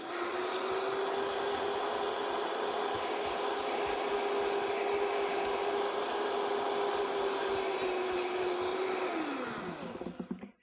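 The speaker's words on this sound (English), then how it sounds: "As soon as you hear those blades slowing down, try to get the material out of the Vitamix and into your bowl" A Vitamix blender grinds seeds into flour with a loud, sustained whirring drone at a steady pitch, which dips and winds down near the end as the blades slow.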